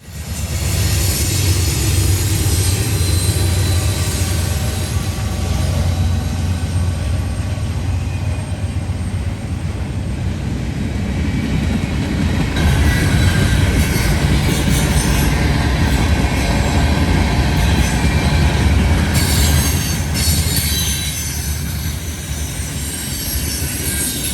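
Freight train rolling past at night with Dash 9-44CW and AC44C6M locomotives running as distributed power units, a loud, continuous rumble of wagons and wheels with steady clatter and faint squeal throughout.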